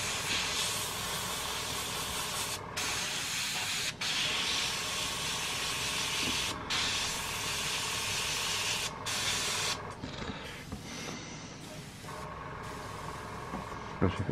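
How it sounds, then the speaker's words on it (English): An airbrush hisses steadily up close while painting an abominotaur miniature, the continuous spray cutting out in several brief breaks and turning patchier toward the end. "you really should try and keep the air on if you can"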